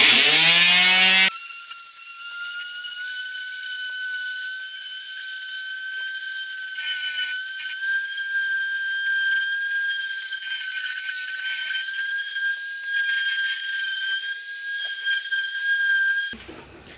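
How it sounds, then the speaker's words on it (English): A wooden arm for a screen printing jig is sanded, giving a loud, steady, high machine whine that starts abruptly and holds for about fifteen seconds before cutting off. "So we're gonna sand it, making sure that it's nice and smooth."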